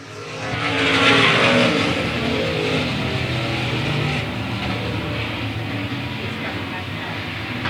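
A field of race cars roars around South Texas Speedway, engines swelling loud and then holding a dense, continuous drone as the pack races on.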